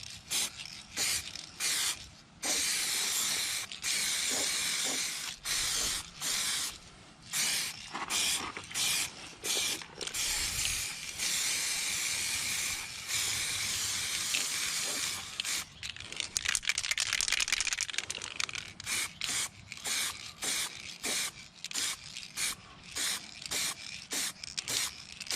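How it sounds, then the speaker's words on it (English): Spray gun painting a 2005 Audi A4 Quattro, a steady airy hiss in repeated bursts broken by short pauses, fairly close and quiet, with no voices. "I'm not liking how it's spraying."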